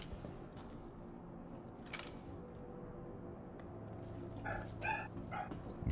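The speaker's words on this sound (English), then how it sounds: "Oh, I can hear the dogs going." Dogs bark in the Star Citizen game world, several faint, distant yips and woofs arriving late over a low ambient hum.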